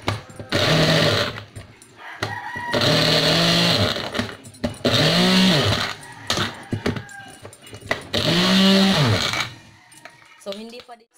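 A blender whirs loudly in four long bursts separated by short pauses while it chops cauliflower into cauliflower rice, and its pitch shifts within each run.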